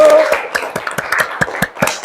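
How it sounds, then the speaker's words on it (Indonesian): Classroom of students clapping hands to reward classmates, about ten sharp, loosely rhythmic claps close by. "Tepuk tangan dulu."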